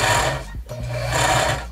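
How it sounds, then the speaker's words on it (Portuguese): A sewing machine winds thread onto its bobbin with a steady, close mechanical whir that holds almost unbroken, with one brief dip partway through. "Essa parte daqui da caixa da bobina tá girando, que é onde a gente vai encher a linha"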